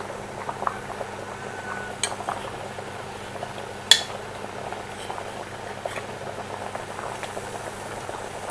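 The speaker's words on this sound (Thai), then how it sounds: "น้ำเดือดเดือดอย่างเงี้ยค่ะ" A steady low bubbling and hiss of water boiling in a pot for Thai tom yum sea bass, with a few faint clinks of metal near the middle.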